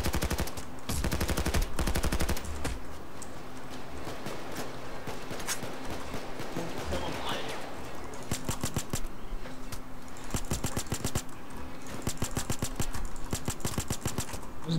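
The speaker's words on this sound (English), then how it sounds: "They start shooting people" Gunfire during a heist shootout in Payday 2: rapid automatic bursts and single shots crackle almost nonstop, close and loud over a steady background hum, with brief pauses between volleys and no talking.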